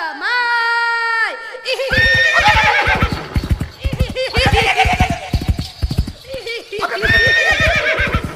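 A horse whinnies loudly for nearly two seconds, then hooves clatter in a fast clip-clop while voices shout and call over the hoofbeats in a Marathi village comedy skit.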